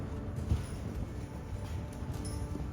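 Mustang horses moved back into a holding pen at an adoption event, with a steady low shuffle and soft hoof clatter on dirt throughout, no clear separate steps, under a constant faint background hum.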